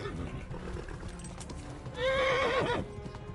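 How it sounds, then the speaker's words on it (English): A horse in Kingdom Come: Deliverance whinnies loudly with a wavering, rising neigh after a stretch of clopping hooves and background commotion. "Horse is freaking out."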